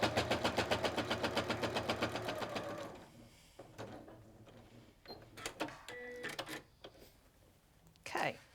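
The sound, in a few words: sewing machine stitching along a line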